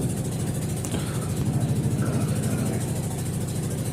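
A trawler boat's engine chugs steadily on a river, a constant low mechanical drone with a faint rhythmic throb and no voices.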